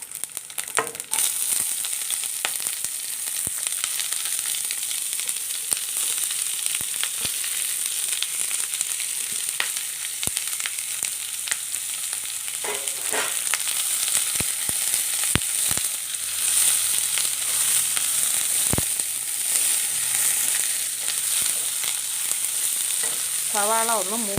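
Two sliced onions go into a pan of browned coconut and fry with a loud, steady sizzle, broken by occasional scrapes and clinks of stirring over the whole stretch.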